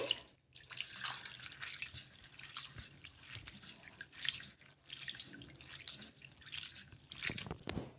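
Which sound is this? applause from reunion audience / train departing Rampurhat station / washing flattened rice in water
washing flattened rice in water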